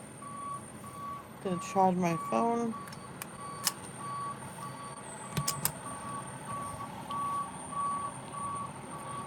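An oil delivery truck backs up outside, its reversing alarm repeating a steady, evenly spaced beep at moderate distance while people talk nearby.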